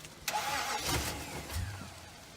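A 2006 Nissan Titan pickup engine, flooded after a starter repair, cranks and catches with a rough burst, then stumbles and runs unevenly at low volume for a couple of seconds.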